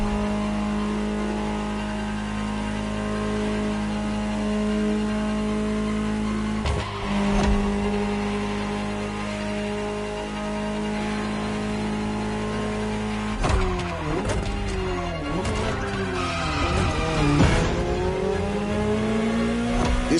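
A Ferrari 288 GTO revs loudly in a racing video game, a steady engine drone rising and falling through gear changes, with sharp climbing revs and tire squeal toward the end, heard alone and close.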